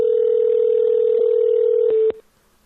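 A steady telephone tone hums loudly and evenly for about two seconds during a phone call, then cuts off abruptly after a couple of faint clicks.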